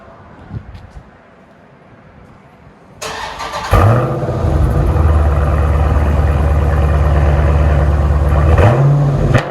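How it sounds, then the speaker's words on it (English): A Dodge Challenger 6.4L HEMI Scat Pack, mid-mufflers replaced with 3-inch Dynomax race bullets and rear mufflers kept, starts with a loud bark then holds a deep, steady rumbling idle close by, ending with a slight rise in revs. "What we did on it was mid-muffler delete and replaced them with DYNOMAX bullets, 3-inch, and left the rear mufflers on it."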